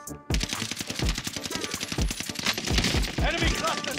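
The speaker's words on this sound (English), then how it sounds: "I'm under fire!" Gunfire in the video game Warzone: rapid, loud automatic bursts crack in quick succession, dense and close, with single shots mixed in and continuing to the end.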